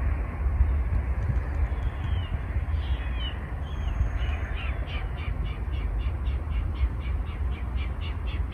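Birds calling at a lookout area near Villa La Angostura in Patagonia, a series of repeated short calls standing out over steady low outdoor rumble and wind, moderately distant.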